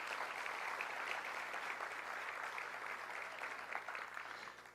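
An audience at an infrastructure congress gives sustained applause for two leaders, steady dense clapping that fades slightly at the end.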